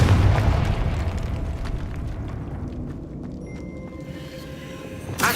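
Fire spell explosion in the Hogwarts Legacy video game: a loud booming blast at the start that fades into a low rumbling tail, followed by a quieter tonal shimmer and a small burst at the end, with no speech.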